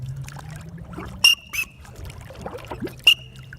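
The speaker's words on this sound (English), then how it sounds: "The water flows out of the whistle. It's made to do that. It's made to purge itself." Water draining and trickling out of a wet Storm Whistle, with faint dribbling and a few short, sharp squeaky bursts as the whistle clears itself, heard up close in an otherwise quiet setting.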